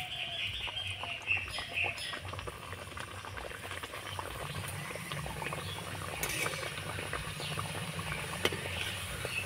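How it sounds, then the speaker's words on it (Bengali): Bhelpuri puris frying in hot oil, a steady soft bubbling sizzle with fine crackles, close and fairly quiet, no talking. "একইভাবে করে ভেলপুরিগুলোকে ভেজে নেব"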